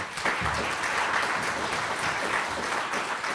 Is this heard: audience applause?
yes